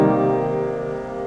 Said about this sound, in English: Similarly with the minor seventh chords,